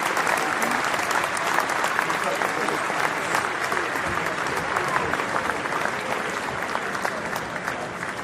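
Applause from a class audience at a Creating Opportunities session, dense continuous clapping filling the whole stretch at a steady, fairly loud level, with voices mixed faintly underneath.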